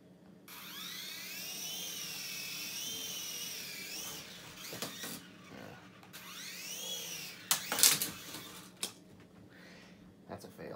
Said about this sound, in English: I'm gonna turn on the helicopter and demonstrate the button